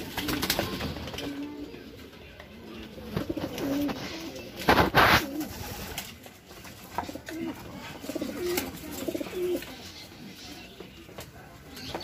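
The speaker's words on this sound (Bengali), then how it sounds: "এটা সেই আহত কবুতরটি" An injured pigeon with a damaged wing cooing in low, repeated murmurs, with a sharp rustling burst midway, like wing flapping or handling, and faint background noise.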